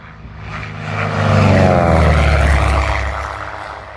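A Japanese Fuji propeller airplane drones past, its engine swelling louder toward the middle and then fading away.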